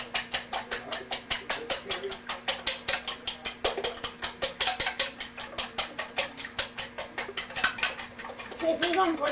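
A fork beats an egg in a bowl with a fast, steady run of clinking, scraping strokes, close and clear throughout, picking up slightly toward the end.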